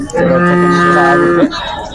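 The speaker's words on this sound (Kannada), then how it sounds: "ಸಿಂಗನೂರು ಹಸುಗಳ ಸಂತೆ ವಿಡಿಯೋ ಎಲ್ಲ ನಿಮಗೆಲ್ಲ ವಿವರವಾಗಿ ತೋರಿಸ್ತಾ ಇದ್ದೀನಿ" A cow at the Sindhanur weekly cattle market in Karnataka lets out one long, loud, close moo lasting over a second, with faint market chatter around it.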